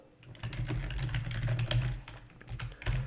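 Steady, close typing on a computer keyboard while a MySQL INSERT query is entered, keystrokes running densely together with brief gaps and a low hum underneath, no one speaking.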